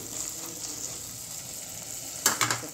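Vegetables sautéing in a pan for foxtail millet pulao, a steady soft sizzle throughout, ending with a few quick clinks of a spoon stirring against the pan.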